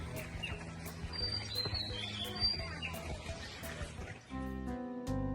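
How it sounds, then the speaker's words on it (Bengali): Birds chirp and tweet in short bright calls at dawn in Saidpur, Bangladesh, over a steady low rumble of background noise, with a humming tone near the end. "কি সুন্দর পাখির শব্দ শুনেন।"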